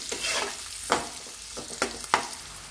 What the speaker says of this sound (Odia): ଏବେ ଭାଜିଦେବା ଟିକେ। ବେଶୀ ସମୟ ପିଆଜ ଆଉ କ୍ୟାପ୍ସିକମ୍କୁ ଭାଜିବେନି।